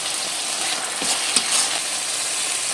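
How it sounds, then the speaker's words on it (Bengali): Tomato paste, salt and turmeric stirred in a frying pan for katla kalia, a constant bright sizzle with a few soft spatula scrapes, close and steady. "এরপর দিয়ে দেব টমেটো পেস্ট দিয়ে আবারও কিছুটা নাড়াচাড়া করে নেব বেশ কিছুক্ষণ"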